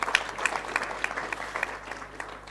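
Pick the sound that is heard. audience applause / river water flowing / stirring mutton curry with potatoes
audience applause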